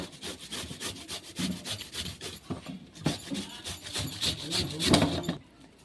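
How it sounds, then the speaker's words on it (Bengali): Raw papaya is grated by hand on a kitchen grater, giving a steady run of close, rhythmic rasping strokes that continue without a break and then stop abruptly near the end. "এবার একটা গ্রেটারের সাহায্যে এভাবে গ্রেট করে নিচ্ছি"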